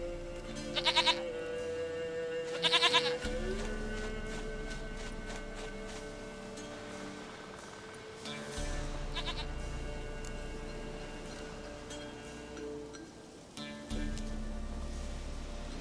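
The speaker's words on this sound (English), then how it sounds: "Goat of mine, dearest, sweetest goat." Goat bleating in The Witcher 3 game, several short nasal bleats spaced seconds apart over a steady ambient game background, close and clear, with no voices.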